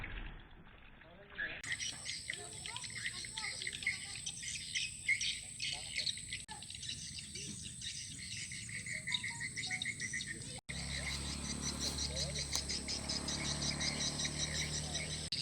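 Dense, high-pitched chirping from many swiftlets around a roadside nesting house fills the air continuously, with a voice speaking underneath the steady twittering.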